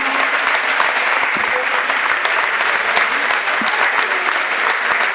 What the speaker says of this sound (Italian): Fate ancora un grande applauso per i ragazzi del Romano